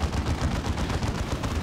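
Rapid automatic gunfire in the Dawn of War 2 video game, a dense continuous burst of shots with thumping impacts, loud and without pauses.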